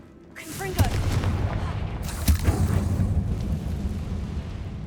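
Confringo fire spell bursting in Hogwarts Legacy, a couple of sharp cracks followed by a rumbling, crackling explosion that lingers for several seconds.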